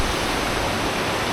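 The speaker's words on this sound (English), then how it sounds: "this amazing beautiful river that runs through" A river rushes through a town in Peru, giving a dense, steady broadband roar of moving water that stays loud and unbroken with no voices.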